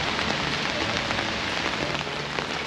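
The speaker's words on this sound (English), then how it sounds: "It is absolutely lashing with rain." Heavy rain pours down steadily in Vienna's central cemetery, a dense, continuous hiss of drops hitting surfaces close by, unbroken throughout with no voices.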